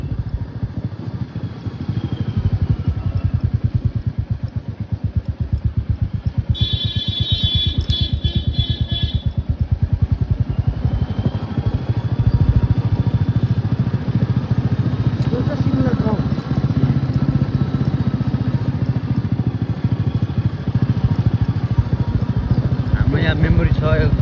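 A motorcycle engine runs steadily for the whole stretch, a low, continuous drone held at a moderate level in slight traffic, with a brief high buzzing tone partway through and people talking over it.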